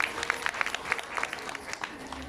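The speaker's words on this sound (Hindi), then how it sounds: "उनके लिए भी जोरदार ताली हो जाती है" Listeners at a Shiv Mahapuran katha in Bhimtal clap, a scattered run of individual claps, fairly faint and somewhat distant, with a murmur of voices beneath.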